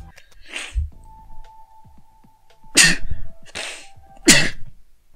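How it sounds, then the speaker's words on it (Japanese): A person sneezes several times, with short forceful bursts separated by pauses and a faint steady tone in the background. "くしゃみしました。"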